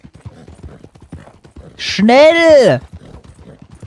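Horse hooves clip-clop in a steady rapid rhythm while riding in the video game Red Dead Redemption 2, with a loud shouted voice cutting in over the middle.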